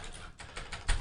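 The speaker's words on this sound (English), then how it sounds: "I cannot type on this other keyboard" Quick keystrokes on a computer keyboard during a live stream, a few soft clustered taps spread across a second, with one louder thump near the end, fairly close and alone with no talking.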